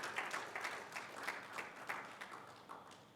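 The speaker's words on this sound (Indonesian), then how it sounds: "Tepuk tangan panjang bagi Tuhan Yesus." A church congregation claps together in a long, even round of applause that stays fairly faint and distant, with no talk over it.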